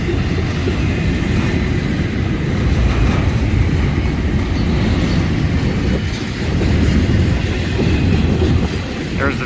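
A Florida East Coast Railway freight train, a double-header led by two locomotives, passes close by at South Daytona, Florida, as it slows, with loud, steady rumbling and rhythmic wheel clatter throughout.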